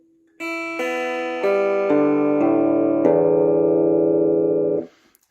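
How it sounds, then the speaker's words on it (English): A clean electric guitar with no effects plays a rising sequence of bright single notes and chords, each ringing clearly and sustaining before stopping short. "Here's the clean sound again."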